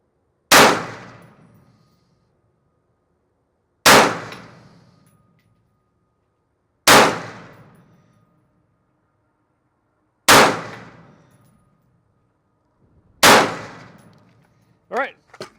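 Five sharp gunshots from a Daniel Defense M4A1 rifle fired at steel targets on an outdoor range, evenly spaced about three seconds apart, each a loud crack with a ringing tail, followed by a couple of faint metallic pings at the end.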